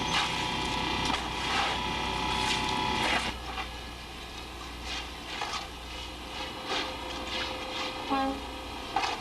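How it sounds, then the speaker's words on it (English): A horn signal sounds on a scallop fishing boat in the Bay of Fundy, two brief tonal blasts over steady deck machinery and engine rumble, with rattling and clanking from gear as the drags are dropped. "That horn sound you heard was a signal from the captain to get out of the way while they dropped the drags."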